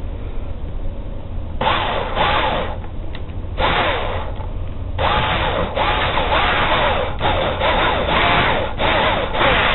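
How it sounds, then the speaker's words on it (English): A drill grinds into a wooden crankbait fishing lure in repeated bursts, the whine rising and falling as it bites, close and steady with brief pauses between runs. "So I take my drill and I get started right on my point."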